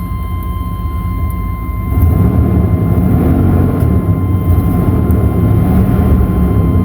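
A vehicle engine idles roughly while cold, just after being started on a revived battery and in need of new plugs and wires, giving a steady low rumble that grows louder after two seconds and holds on alone.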